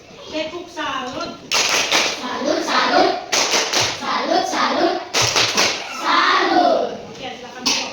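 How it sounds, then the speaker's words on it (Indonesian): A classroom of fourth-grade pupils claps together in a lesson, several bursts of hand clapping mixed with children's voices and chatter, close and fairly loud. "Kita beri tepuk salut."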